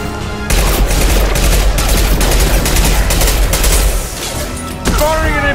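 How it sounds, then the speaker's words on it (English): Dense, sustained gunfire and booming impacts from an impact shot in the Mass Effect 2 video game fill the scene loudly and continuously, with a short break near the end. "Firing an impact shot!"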